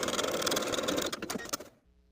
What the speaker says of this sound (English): zigzag back and forth to secure. Then we can pull the elastic entirely inside the casing and sew closed the opening